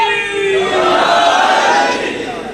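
A crowd at a Shia majlis in an imambargah chants slogans in unison, a loud, dense mass of voices that swells and holds for a couple of seconds before easing off.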